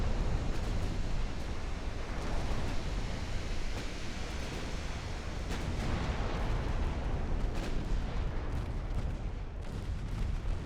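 Naval artillery shells fire in the Ultimate Admiral Dreadnoughts game, a steady rumbling barrage of booms and blasts layered over a constant roaring wash, loud and unbroken throughout.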